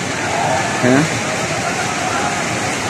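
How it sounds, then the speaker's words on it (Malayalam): Floodwater of a river swollen by heavy rain rushes past a house after a landslide in Wayanad, Kerala: a steady, loud broadband roar of water throughout, with a brief voice or tonal sound near one second. "ഈ വീടിന്റെ കങ്ങേ ഭാഗത്തു കൂടെയാണ് പുഴ പോകുന്നത്."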